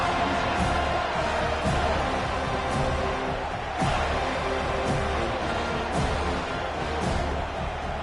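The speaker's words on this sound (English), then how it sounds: "They challenge this crowd to bring the energy, and I'd say they're doing that." A stadium crowd cheers in the College Football 25 video game during an FSU vs Notre Dame dynasty matchup, a dense steady roar with periodic swells, heard alone without speech.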